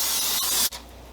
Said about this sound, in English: Spray my pan with some olive oil.